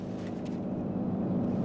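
A German half-track vehicle in the Arma 3 Iron Front game rolls closer, its steady low engine rumble and track drone holding at an even, moderately loud level throughout, with no voices.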